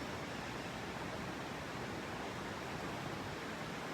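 A river flows in a constant, dense outdoor wash of rushing water, steady and even throughout with no voices.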